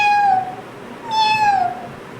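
A voice imitating a kitten, giving two drawn-out high meows one after the other, close and clear against a quiet background.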